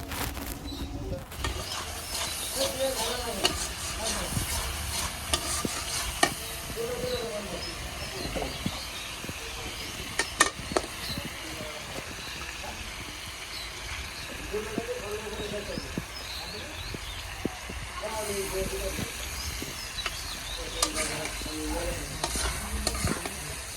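Meat frying in a pan during home cooking in Bangladesh, stirred now and then: a steady close sizzle with repeated scraping stir strokes and occasional clinks, while someone talks over it.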